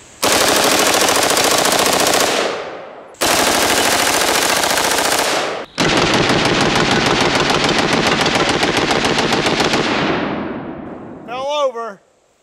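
A full-auto AR-15 fed from a 90-round snail drum of 5.56 full metal jacket rounds fires three long, loud, close bursts separated by short pauses, and the last burst trails off before a voice speaks briefly.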